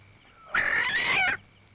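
A single short, loud chicken squawk, harmonic and strained, rising abruptly out of quiet and breaking off after under a second.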